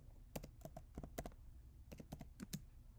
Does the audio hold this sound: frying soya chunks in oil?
no